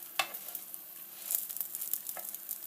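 Stuffed paratha (elavalu roti) frying in a frying pan gives a soft, faint sizzle with a few light scrapes and taps, close by and steady.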